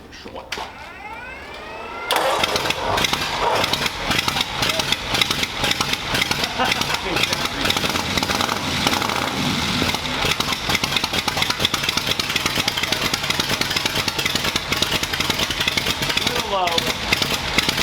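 A Model T Ford cranks and catches, then keeps running with a steady, loud mechanical clatter up close for most of the clip, while people talk briefly.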